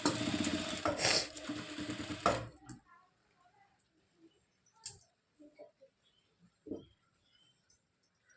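Sewing machine stitching a small tag, a dense rapid run of needle clatter for a couple of seconds, then near silence broken by scattered faint ticks and handling clicks.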